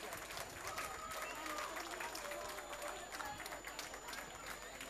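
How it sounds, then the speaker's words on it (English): Crowd at a children's school annual day clapping for kids leaving the stage, producing sustained, dense applause throughout with background crowd murmur and a faint voice underneath. "And a roaring applause."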